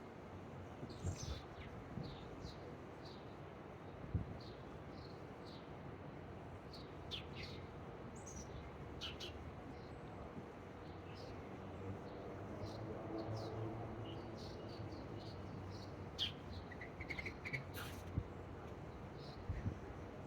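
Scattered high chirps and tweets from several birds ring out at a distance over a steady, hissy outdoor background.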